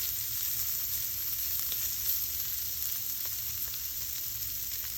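Beef fat sizzles steadily in a smoking-hot cast iron pan over high heat, a dense, even crackle that holds close and loud throughout, with no voices.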